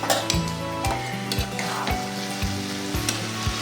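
Bottle gourd (lau) frying in a pan while being stirred gives a continuous close sizzle, broken by regular sharp scrapes and knocks of the spatula against the pan, with no talking.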